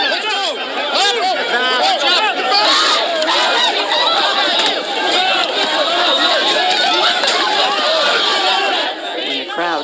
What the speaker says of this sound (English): the detention center became a magnet for people protesting the arrests